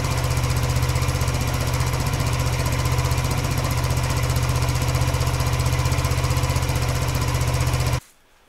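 A police motorcycle engine, warmed up before an oil change, idles steadily up close with a low, throbbing rumble and rattling knock, then cuts off abruptly at the very end.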